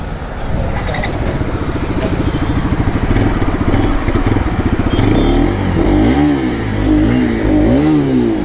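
A 2020 Bajaj Pulsar RS 200 motorcycle engine runs loud and steady, its rumble rising and falling as the throttle is blipped and revved, with no talking.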